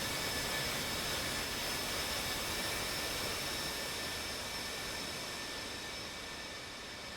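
F-18 and F-16 fighter jet engines roar in a flight video game, a steady broad whooshing rush with a faint whine, continuous and gradually fading slightly, with no talk.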